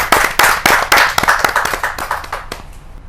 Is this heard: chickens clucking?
no